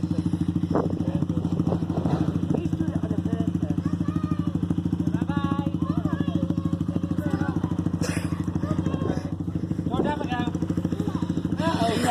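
A motorcycle engine runs steadily and loudly close by, holding an even throbbing drone the whole time, while people talk over it.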